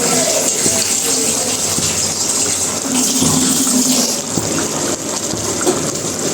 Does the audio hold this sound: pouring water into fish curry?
yes